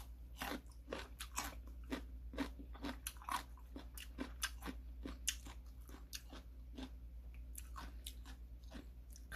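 Someone bites into freshly mixed crunchy radish kimchi (seokbakji) and chews it up close, producing a rapid, irregular series of crisp wet crunches with no talking.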